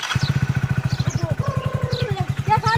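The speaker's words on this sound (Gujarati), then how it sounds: "જો મિત્રો બાઇક ચાલુ કરી નાખી છે હવે ઉપડી દેવા." A motorcycle engine idles close by with a fast, steady thumping beat that continues through the whole stretch, with faint voices in the background.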